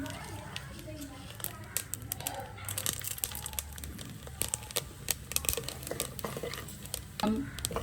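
Light crackling and sizzling of mustard seeds and urad dal tempering in hot oil, with scattered sharp pops and a few stirring scrapes, continuous and close.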